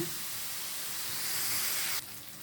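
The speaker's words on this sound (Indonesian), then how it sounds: "Bawang dulu yang ditumis." Shallots and garlic sauté in a hot pan, a steady close sizzling hiss that holds for about two seconds and then drops abruptly to a quieter sizzle.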